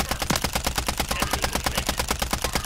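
Rapid automatic gunfire in Warzone MW3, a steady, loud burst of evenly spaced shots running about twenty rounds in under three seconds, close and uninterrupted.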